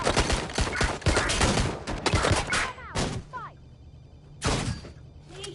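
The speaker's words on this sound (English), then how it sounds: "I'm hearing gunfire." Gunfire erupts in the video game Watch Dogs: Legion, with rapid bursts of shots in quick clusters, some louder and nearer, interrupted by a brief lull and a final loud volley.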